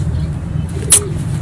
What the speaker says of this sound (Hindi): ब्रीडर कबूतर है इनका ये